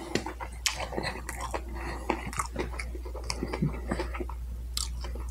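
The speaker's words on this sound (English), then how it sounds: "the onions and the peppers are the crunch that you hear" Leftover pizza slices with onions and peppers are chewed up close at a mukbang table, giving wet, crunchy bites and smacking mouth sounds in an irregular rhythm over a steady low hum.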